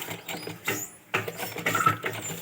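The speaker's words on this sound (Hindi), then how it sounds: "तो पहले तो हम इसको पक्की सिलाई कर देंगे यहाँ पे" A sewing machine stitches fabric for a child's baby gown, giving a close, rattling mechanical whir in two bursts separated by a brief pause.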